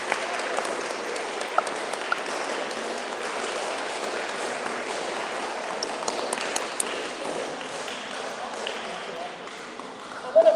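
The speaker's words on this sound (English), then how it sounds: "I'll give her a round of applause." A room of people gives a round of applause at a live-streamed Mythical Legends event, steady clapping sustained for several seconds at moderate volume.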